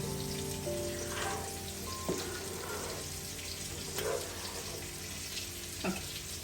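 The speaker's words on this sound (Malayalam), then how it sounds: "നമ്മൾ അത് നല്ലതായിട്ട് തിളച്ചിട്ടുണ്ട്" A pot of rice for Arabic chicken mandi boils quietly and steadily, with a soft continuous bubbling hiss and a few faint clinks, with no talking.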